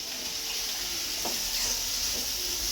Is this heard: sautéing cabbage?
yes